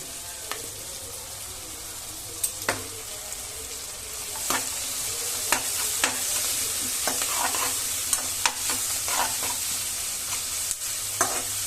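Cashews frying in a pan for paneer butter masala give a steady, even sizzle throughout, punctuated by occasional light clicks and taps of a stirring spoon against the pan, with no talking.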